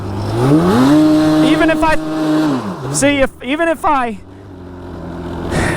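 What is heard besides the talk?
quad ATV engine revving during powerslide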